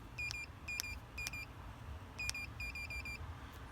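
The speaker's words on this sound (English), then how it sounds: "And it beeps 5 times." Trimark keyless entry keypad on a Newmar coach emitting short, high electronic beeps, three spaced out, then a pause and a quicker run of several more, soft and close in a quiet setting.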